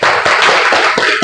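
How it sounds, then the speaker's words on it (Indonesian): A classroom of primary school pupils claps for a group after its presentation, a dense burst of applause that stays loud and steady throughout. "beri tepuk tangan untuk kelompok 1."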